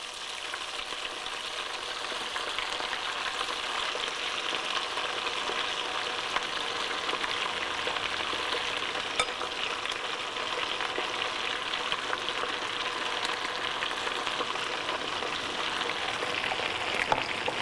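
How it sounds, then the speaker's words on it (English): Steady, dense crackling and spitting of hot oil as chicken deep-fries, continuous and even throughout, with no voices. "you can see the oil spluttering a lot"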